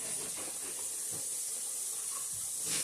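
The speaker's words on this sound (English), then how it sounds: "even though the grease is hot and sizzling" Steady, bright sizzling hiss of pork chops frying in hot grease, continuous and fairly loud throughout with no voices.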